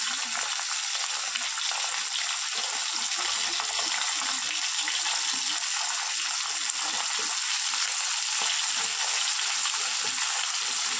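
Tender bottle gourd stems fry in a pan with potatoes, a loud, even, close sizzle with faint stirring scrapes underneath, steady for the whole stretch.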